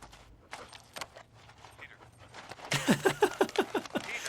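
A dog pants in rapid, rhythmic breaths, loud and close, following a stretch of quieter room sound with faint voices and movement.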